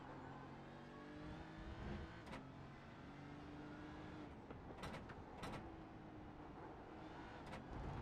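A GT3 race car on Fuji Speedway in a racing video game powers out of the final corner, its engine droning and rising steadily as it accelerates, joined by brief clicks and knocks over the curbs.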